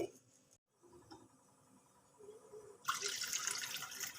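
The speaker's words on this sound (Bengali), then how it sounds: "এবার আমি এর মধ্যে অ্যাড করে দিচ্ছি জল" Water pours into a pan of papad curry being cooked with coriander powder, a soft splashing and running stream that swells louder toward the end, following quieter kitchen clatter.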